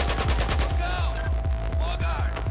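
Rapid automatic gunfire in Battlefield 4, the video game: a steady, loud stream of regular thumping bursts runs the whole time, layered over a constant droning hum and a thin whine, with no talking.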